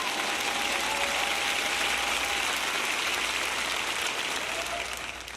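Church congregation applauding during a sermon: a dense, steady wash of many hands clapping at once, holding level for most of the stretch before easing off near the end.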